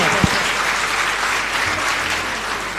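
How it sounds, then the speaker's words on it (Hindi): A gathering at a Jain sermon breaks into applause, continuous dense clapping holding steady for a few seconds, with a brief low thump near the start. "जरा तालियां बजा दो इसी बात पर"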